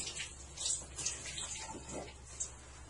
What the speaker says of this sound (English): I'm going to wet my sponge